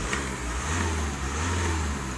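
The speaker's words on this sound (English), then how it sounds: "Engine sounds fine." A Skoda Yeti 2.0 diesel 4x4 engine idles steadily nearby, a low, even rumble with a slight rise in the middle and no talking.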